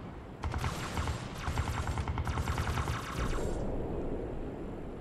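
Rapid automatic gunfire crackles in a Halo Wars cutscene, dense bursts of shots layered over a loud rumbling battle din, easing off near the end.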